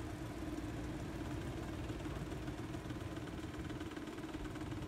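The inboard engine of a Herreshoff T-30 sailboat runs steadily at idle, a continuous close mechanical drone with an even hum and no voices.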